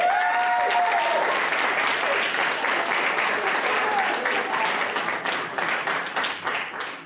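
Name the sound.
audience applause for filmmakers at a film festival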